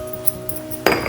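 A utensil mixing cake batter in a bowl, heard as a brief soft scraping hum followed by a single sharp clink against the bowl near the end, close and fairly quiet.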